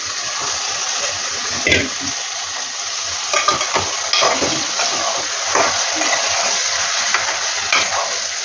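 Washed mutton tossed into a pan of softened tomatoes, frying with a steady close sizzle broken by scraping stirs and a few sharper clinks against the pan.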